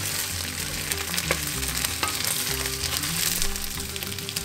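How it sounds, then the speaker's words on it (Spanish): Pieces of guajillo and ancho chile fry in oil over low heat, a steady close crackling sizzle with brisk bubbling that holds at an even level throughout, broken by a few sharper pops. "bajamos a lumbre baja para freír los guajillo y el ancho, que corté en trozos para que sea más fácil manejarlos"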